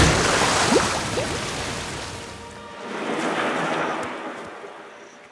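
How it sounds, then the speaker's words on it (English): A very large waterfall in a cartoon jungle setting roars as a steady broadband rush of falling water, loud and continuous, easing slightly midway before swelling again. "Really, really big waterfall."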